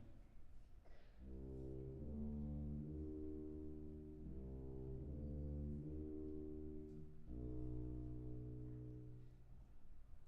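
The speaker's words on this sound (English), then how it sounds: "we have a tuba player who's going to play Snails on the Rails melody for us." Solo tuba plays a slow melody called Snails on the Rails at a kids' composition concert: sustained, low, rich notes in a short phrase of connected tones and then a final held note, alone and quite soft.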